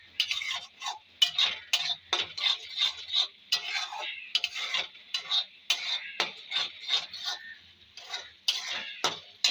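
A spoon scrapes and clatters around a pot of chicken curry (kosha), making repeated rhythmic stirring strokes with short pauses between them, close up and without talk.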